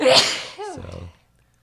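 One loud, close sneeze bursts out, followed by a short spoken word.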